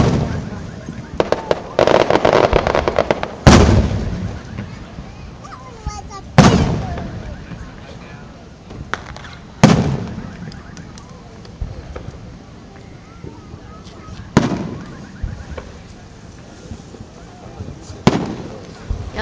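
Independence Day fireworks over Mobile, a series of loud booming bursts spaced several seconds apart with crackling between them, heard from a crowd with voices in the background.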